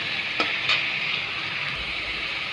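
Ginger, garlic and onion fry in hot oil with a steady, even sizzle, broken by a couple of brief stirring scrapes near the start, heard up close with no talking.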